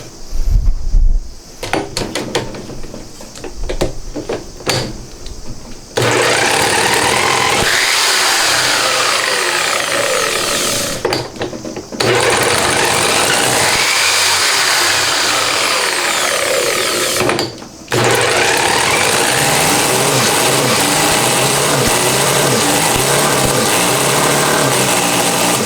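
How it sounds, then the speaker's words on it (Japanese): A Honda Monkey engine converted to a 124.4cc four-cylinder is spun by a drill used as a starter, giving a loud, close, buzzing whine in long sustained runs broken by brief pauses, rough and uneven rather than a settled idle. "ドリルが完全に離れてからエンジンの音がするじゃん一応。"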